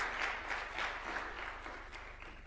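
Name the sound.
audience clapping for a party leader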